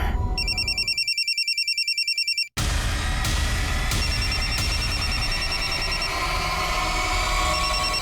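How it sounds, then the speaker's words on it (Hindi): A telephone rings in rapid electronic bursts for about two seconds, then cuts off abruptly and gives way to loud, busy background noise with faint beeping tones. "रुक मैं फोन लगा के देखता हूँ"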